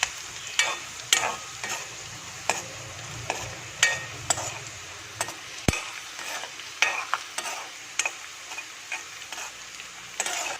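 Mustard seeds crackle and pop in a hot pan, sharp irregular snaps scattered over a soft sizzle, some loud and close.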